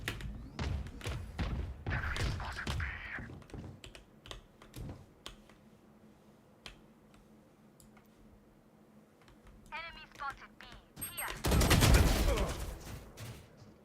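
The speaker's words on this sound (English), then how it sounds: "All missiles away" A rapid volley of launches and blasts from an air-combat video game on Nintendo Switch, with dense clattering bursts early, quieter thuds in between, and a loud explosive roar near the end.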